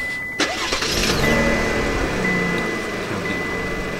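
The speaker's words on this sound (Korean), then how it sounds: "시동을 걸면" A 2018 Cadillac CT6 Platinum engine cranks briefly and catches, then settles into a smooth, moderately loud idle hum heard from nearby.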